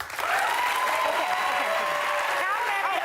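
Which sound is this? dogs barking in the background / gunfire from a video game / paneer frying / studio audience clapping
studio audience clapping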